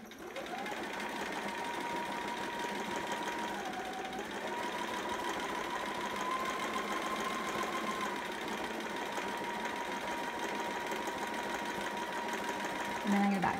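A sewing machine runs steadily, back stitching along the folded-over edge of fabric while making a Riley long john sitter, a continuous close mechanical whir holding for over thirteen seconds with a slight pitch dip partway through.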